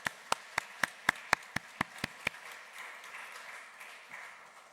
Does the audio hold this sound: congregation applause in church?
yes